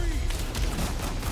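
A short burst of rapid gunfire from the Battlefield Hardline video game trailer, dense cracking shots over a low rumble, loud and close.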